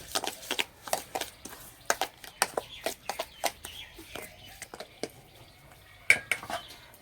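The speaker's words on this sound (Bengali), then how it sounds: "ভালো করে মিশিয়ে নেব।" A spoon taps and scrapes rhythmically against a bowl as semolina and yogurt are mixed, producing a quick, even series of light clinks close by, with faint birdlike chirps in the background.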